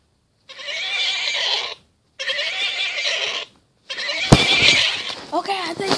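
Horse whinnying in The Sims video game: three loud, close neighs in quick succession, the last one overlapped by a sharp click and other game sounds.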